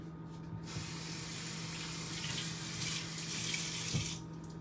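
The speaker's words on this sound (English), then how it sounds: "I'm going to rinse off my cutting board real fast." Water from a running kitchen faucet splashes steadily over a cutting board being rinsed in a sink, a continuous close hiss with small shifts as the board moves under the stream.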